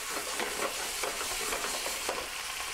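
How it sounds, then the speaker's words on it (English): Canned black olives sauté with capers in a pan, giving a soft, steady sizzle broken by a few light stirring scrapes, with nobody talking. "we're going to let that saute for a while."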